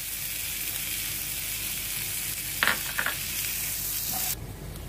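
Sliced onions fry in oil in a pan toward golden brown for Bengali mustard fish. A steady, close hiss of sizzling carries throughout, with a couple of soft clicks from stirring near the end.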